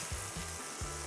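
Burger patties in a hot pan give a dense, steady sizzle, with low scraping rubs from a spatula as they are gently flipped, close and continuous.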